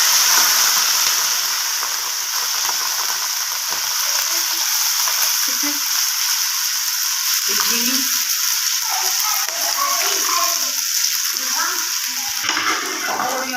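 Cardamom tempering for rice fries in oil in a karahi pan, a loud, steady sizzle and hiss running throughout with occasional stirring clatter and a soft voice in the background.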